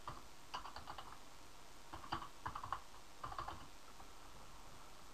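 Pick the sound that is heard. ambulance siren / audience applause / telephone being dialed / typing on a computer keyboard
typing on a computer keyboard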